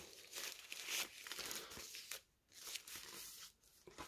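Thin plastic packaging bag around a small remote control crinkling and rustling as it is unwrapped, close and irregular, with bursts of crackle and a brief pause midway.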